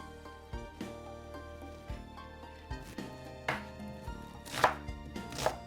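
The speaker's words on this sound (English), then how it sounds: "I got some fresh thyme which I might just cut up and put on it" A knife chops fresh thyme on a cutting board for jerk chicken, making a series of sharp, close taps in an irregular rhythm that grow louder toward the end, with no talking.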